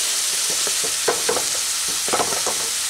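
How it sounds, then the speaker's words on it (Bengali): Lightly crushed onion fries in oil, giving a steady sizzle with short stirring scrapes and taps in uneven bursts, close and moderately loud, with no talk. "সেই পেঁয়াজটা দিয়ে তেলের সঙ্গে নিয়ে খুব ভালো করে একটু নাড়াচাড়া করে"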